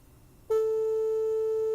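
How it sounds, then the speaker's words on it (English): A pure 440 hertz A tone starts abruptly after a short quiet moment and holds steady and even, with no talking over it. "So 440 hertz, this is middle A on a keyboard"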